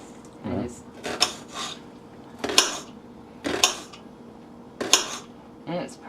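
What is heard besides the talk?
knife slicing an onion thinly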